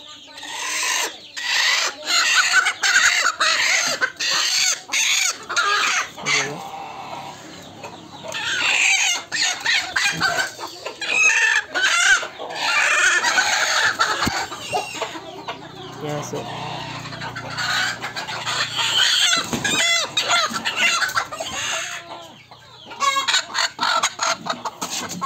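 Hens settled on nests to lay eggs cluck steadily through a dense, busy poultry-yard din, with crowing and other fowl calls mixed in and a voice speaking at times.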